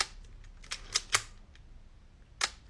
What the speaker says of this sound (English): One of the great things about Leica is their really quiet shutter sound, perfect for the sneaky street photographer.